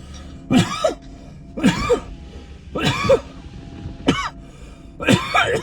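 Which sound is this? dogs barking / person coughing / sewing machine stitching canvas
person coughing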